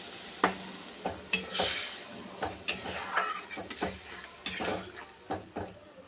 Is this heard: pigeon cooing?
no